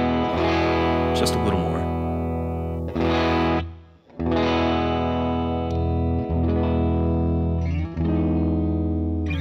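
A Gibson V-style electric guitar played through a HeadRush amp scene with the input gain turned down, giving chorused, lightly distorted sustained chords with one short break, while someone briefly talks over it.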